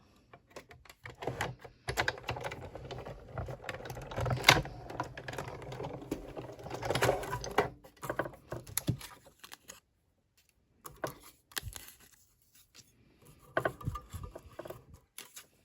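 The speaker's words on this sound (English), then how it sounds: "Okay, so I'm gonna die cut these out." A die cutting machine works through paper scraps, giving a run of close, irregular mechanical clicks and clattering taps in bursts, with short pauses between passes.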